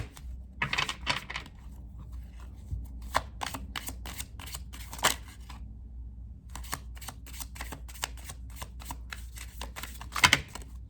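Tarot cards riffle and snap in repeated quick bursts, close and crisp, with short pauses between shuffles and a louder flurry near the end; no one speaks.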